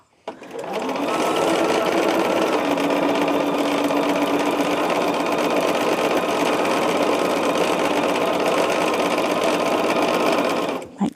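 A sewing machine runs steadily at speed while stitching a quilt top along a quarter-inch seam, a continuous close mechanical whir lasting about ten seconds before it stops.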